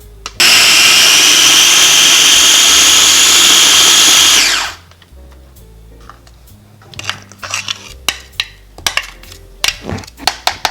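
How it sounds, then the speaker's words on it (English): A mini food processor chopping onion gives a loud, steady motor whir for about four seconds, then stops abruptly. Scattered clicks and knocks follow as the bowl and lid are handled. "We're using the mini food processor to save on time because we're always in a hurry"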